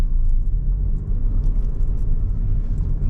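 Car moving off on a Southport driving test route, heard from inside the cabin as a steady low engine and road rumble, fairly loud and constant.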